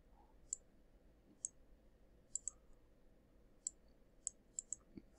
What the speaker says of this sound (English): I'm doing too much clicking here.